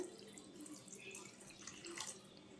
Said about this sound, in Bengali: এখন পানি দিয়ে দেব কিছুটা